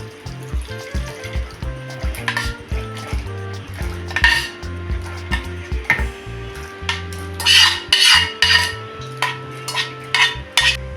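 Cooked milk and roasted gram being transferred into a mixer jar in a home kitchen, with repeated clinks and scrapes of a spoon against metal vessels and occasional louder knocks, close and clear.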